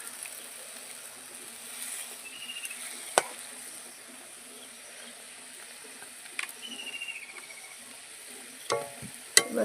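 Fish curry in mustard paste bubbles in a pot with a soft, quiet simmering sizzle. A few sharp clinks of a utensil break in near the middle and end.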